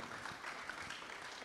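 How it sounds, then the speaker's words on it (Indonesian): Faint applause from an audience at a public event, a brief, even patter of many hands heard from a distance with no voices over it. "boleh kasih tepuk tangan"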